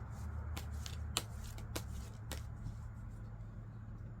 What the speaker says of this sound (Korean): 카드를 먼저 뽑지 않고 즉흥해서 뽑아보도록 할게요